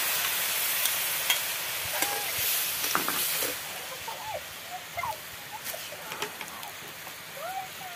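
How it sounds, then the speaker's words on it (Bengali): Jaggery sizzles and bubbles in a wok for a sour-sweet-spicy chalta pickle, with a continuous frying hiss broken by scattered crackles, pops and scraping stirs close by. "কড়াইতে আটি গুড় দিয়ে দিলাম।"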